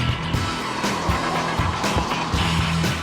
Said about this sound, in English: Now I'm driving the Mini Cooper S model.